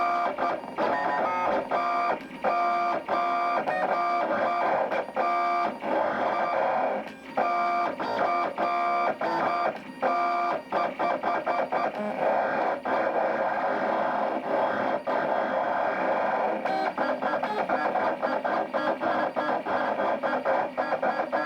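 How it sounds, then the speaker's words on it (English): A USCutter MH871 vinyl cutter slices a sheet of vinyl, its carriage motors whirring and buzzing in rapid stop-start bursts of stepped pitch, loud and continuous for about twenty seconds with no voices. "I loaded the vinyl into the vinyl cutter and now I'm gonna send a cut to it"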